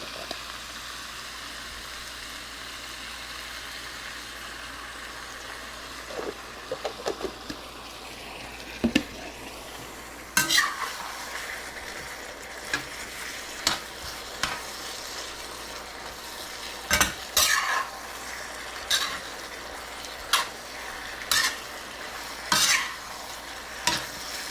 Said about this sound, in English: We have our noodles in. We're gonna go ahead and get our sauce in now.